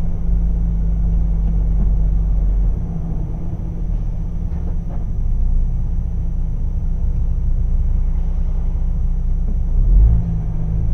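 Traffic stuck in a long jam on a French highway notorious for danger, with cars turning around in the middle: a continuous low engine rumble and road drone, loud and close, swelling slightly near the end, with no talking.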